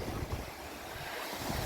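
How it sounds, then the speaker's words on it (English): Ocean waves roll onto Silvernose Beach near Cramond Island, a soft, steady wash of surf mixed with gusting wind noise, faint and continuous with no voices. "Waves are rolling in."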